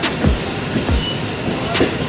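Train at Mumbai CSMT railway station, with loud rolling rumble and repeated rhythmic wheel clatter over rail joints, a few metallic thumps spaced through the clip, close by.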